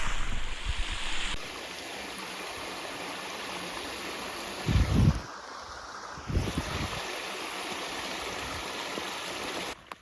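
Water from a small river pours steadily out of a red drainage grotto beside the Sырets river collector in winter, a constant close rushing with a few heavier low thumps midway.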